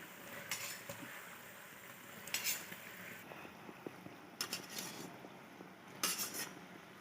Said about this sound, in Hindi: अब इसमें मैं चावल डाल लूँगी।